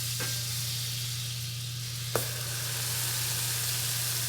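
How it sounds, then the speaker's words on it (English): Sourdough slices soaked in pumpkin pie spice and egg mixture fry in butter in a pan, giving a steady, close hiss of sizzling with a couple of brief clicks. "you're going to lay them in the pan and get the butter"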